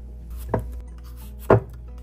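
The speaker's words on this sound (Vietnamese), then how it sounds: "Không phải là thái mỏng mà sắc sợi á cả nhà" A knife cuts vegetables into thin strips for a Vietnamese beef salad, with two separate sharp chops against a board about a second apart over a low steady hum.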